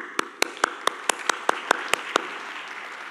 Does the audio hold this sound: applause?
yes